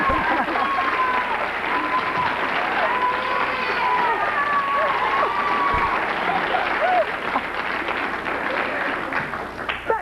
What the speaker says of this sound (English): Applause is a little bit more than the applause Rosie and I get.